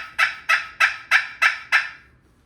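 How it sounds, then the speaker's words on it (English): A handmade turkey pot call with a maple soundboard, cherry pot and crystal overlay gives six evenly spaced, loud, raspy yelps in a quick rhythm, close and alone, fading out afterward. "These are calls that I made. These pot calls."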